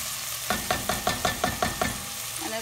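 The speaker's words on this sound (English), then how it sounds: "We want the onions to get a little golden color, and I actually put the heat too high right now." Onions fry in a pan over high heat with a steady, close sizzle, broken by a run of evenly spaced scraping stirs, about nine in quick rhythm.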